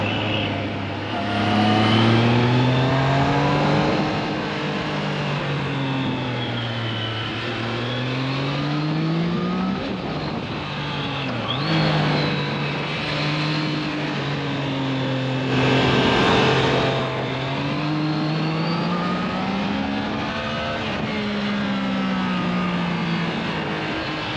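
A Triumph Trident 660 motorcycle rides tight mountain roads, its engine note rising and falling steadily through repeated revs and gear changes, loud and close throughout with wind noise and no talking.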